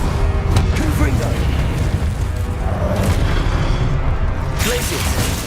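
A fiery Confringo spell blast from the Hogwarts Legacy video game, a loud booming burst layered over continuous busy combat effects and a shouted spell incantation.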